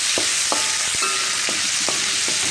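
A spoon stirs crab curry with crushed cashew pieces in a sizzling pan, sharp scraping strokes repeating roughly every half second over a constant bright frying hiss, close and with no voices.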